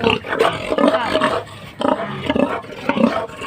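Pigs in a pigpen on a hog farm, grunting and squealing in loud, rough bursts that come in several uneven waves close to the listener.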